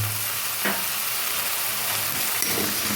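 Turmeric spice paste with a little water sautés in a pan for fish shukto, giving a steady close sizzle with occasional stirring scrapes of a spoon, no voices heard.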